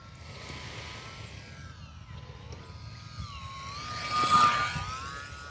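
A small 600mm J3 Cub Firebird RC model plane buzzes past very close, its whining motor pitch sweeping and swelling loudest near the end over steady outdoor background noise.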